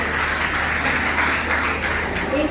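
Students at a college annual prize distribution applauding, a dense, steady wash of clapping from a crowd that fills the room and continues evenly without a break.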